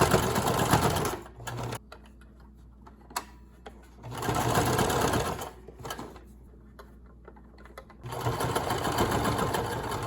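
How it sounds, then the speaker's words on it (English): A home sewing machine stitching a pleated child-size fabric face mask, with close steady whirring runs broken by brief quiet pauses between seams. "we go around one more time to secure everything, following pretty closely the sewing line from the previous time around"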